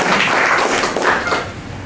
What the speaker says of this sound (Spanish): Aplausos para él, doctor.